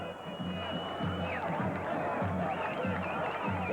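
Enthusiastic crowds in Gaza City greet PLO leader Yasser Arafat on his return from exile, with a dense roar of many voices, chanting and shouting. Rhythmic low pulses suggest drumming or clapping, and the crowd noise stays steady throughout.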